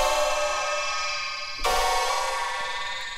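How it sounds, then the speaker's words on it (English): A wavetable synth routed through a feedback loop with a vocoder at the front and OTT compression, producing a bright, buzzy spectral chord that sustains, then is re-struck with a sharp stab partway through. "Super cool sound, kind of making like a spectral chord stab kind of sound."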